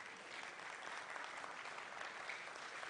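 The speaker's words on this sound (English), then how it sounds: "So give me a round of applause" Faint audience applause at a mentorship session, a steady hiss of many hands clapping for a few seconds with no voices over it.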